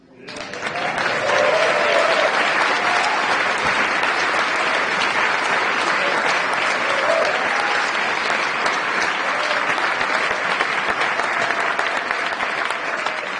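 Sustained, loud audience applause at a Presidential Medal of Freedom ceremony, many hands clapping in a dense, continuous roar that swells in quickly and holds steady throughout.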